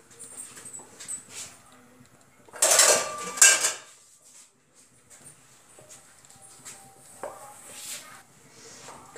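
A metal kadhai is set down on a gas stove with a couple of sharp clanks and scrapes, followed by quieter kitchen clatter and a faint dog whimper in the background.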